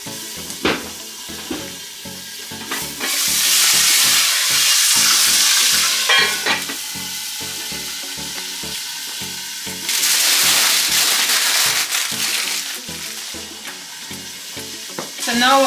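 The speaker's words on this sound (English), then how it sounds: "So now I will just place the scallion in the pot also." Chopped scallion sizzling and crackling loudly as it is stirred into a hot pot of Jamaican pot roast beef, with steady frying hiss swelling and easing alongside rhythmic scraping strokes of the spoon.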